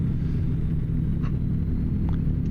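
Heavy truck engine in American Truck Simulator pulling slowly up to highway speed: a steady, loud low rumble that holds an even level throughout, with no sharp rev change and no one talking.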